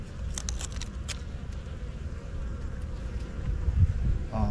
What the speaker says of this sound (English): These bees are active.